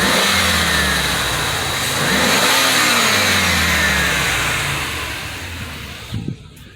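A 2005 Chevrolet Suburban engine revs as the accelerator is pressed, a steady loud mid-low drone that swells, then eases back toward idle near the end, heard close with no talking.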